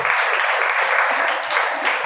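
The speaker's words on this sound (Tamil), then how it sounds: "எல்லாரும் அவங்களுக்கு கைத்தட்டுங்க இன்ஷா அல்லாஹ்" A hall full of people applauding students at an Arabic college prize-giving ceremony, a dense continuous clatter of clapping, fairly close and loud throughout the short burst.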